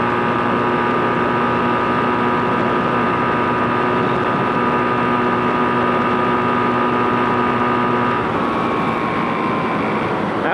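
Kawasaki KZ440 motorcycle engine, converted to a single carburetor, held at wide open throttle in a steady loud drone with tonal harmonics, then easing off slightly near the end.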